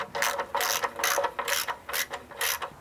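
A ratchet tightens the oil pan drain plug on a Ford F-150 with a 5.0 Coyote engine, giving a close, steady run of rapid clicking bursts in about six even strokes, with no talk.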